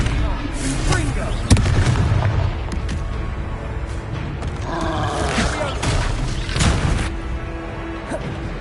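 Confringo fire spell blasts go off in a Hogwarts Legacy battle, with a sharp bang near the start among rumbling booms and game combat noise, while voices shout over the fight.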